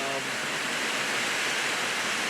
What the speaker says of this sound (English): it's pouring down